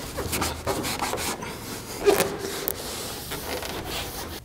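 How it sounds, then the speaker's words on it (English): A towel rubs briskly across a car headlight lens in short, soft scrubbing strokes, close by and fairly quiet, with no talk. "Then you want to dry the headlight."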